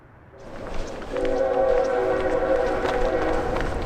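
A train rolls past through rural fog, its steady rumble rising and holding loud and near while a sustained horn blast sounds over it.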